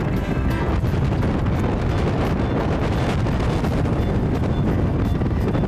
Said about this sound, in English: There was a gust.